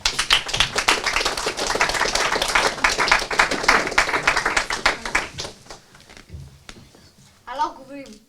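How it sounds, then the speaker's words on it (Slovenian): A small audience at an improv theatre workshop claps in dense, lively applause that fades out after about five seconds, followed by quiet and a few spoken words. "Evo, dajmo še zadnji spodbudni aplavz."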